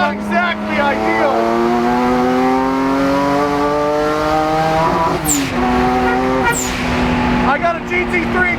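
A twin-turbo Porsche Boxster on a track day roars loud and close, its engine note climbing steadily through the revs, then breaking sharply at two gear changes before pulling hard again.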